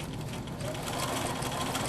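A sewing machine stitches a duffle bag zipper with a close, rapid, steady mechanical whir and clatter, and a voice speaks over it.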